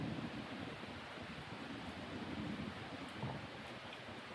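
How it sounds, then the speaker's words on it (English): Wind moves through the trees at a nature center as a soft, steady rushing hiss with gentle rustling, constant and fairly faint throughout, with no voices. "Being quiet and taking in the sounds of the wind of the trees."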